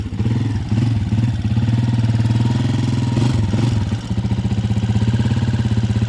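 A Honda TMX125 Alpha motorcycle engine, upgraded to 155cc, revs up and down close by with a rapid ticking clatter from the timing gear riding over the rumbling idle, with one brief dip in the revs near the end.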